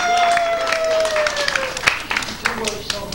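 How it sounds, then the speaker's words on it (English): An audience at a live stage show claps in a brief burst, the applause rising and falling over a steady tone, with voices mixed in. "Give her a big round of applause."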